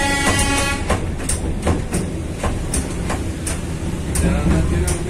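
The Darjeeling Himalayan toy train runs between Kurseong and Ghum, its wheels clattering in a repeated clickety-clack rhythm close by, with short sharp bursts over the rolling noise and a voice talking over it.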